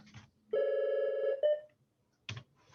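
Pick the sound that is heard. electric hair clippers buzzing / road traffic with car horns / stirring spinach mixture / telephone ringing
telephone ringing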